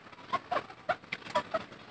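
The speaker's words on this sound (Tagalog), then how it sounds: "Ito na po yung mga alaga nating manok" Pet chickens in a backyard cluck in short, scattered bursts, several quiet calls spaced a fraction of a second apart with faint outdoor ambience between them.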